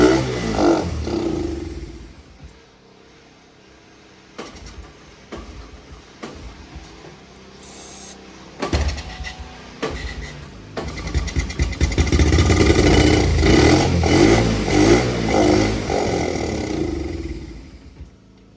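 A Honda TRX 90 ATV engine with its carburetor being worked on. Pulls and sputters come first, then the engine catches and revs up and down loudly at close range, alone without talk.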